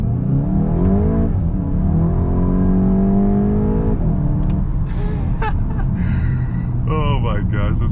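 A 2022 VW Golf GTI Mk8 S with traction control off accelerates hard, its engine droning loud and steady from inside the cabin as the pitch climbs through a gear, with a voice talking excitedly toward the end.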